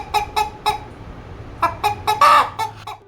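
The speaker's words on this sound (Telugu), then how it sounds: "తెల్లారి మా కోడి చూడండి ఎలా పూస్తుందో" A domestic rooster calls at dawn with a series of loud, close, raspy bursts. The cries are short and evenly spaced, with a stronger call near the end and no talk.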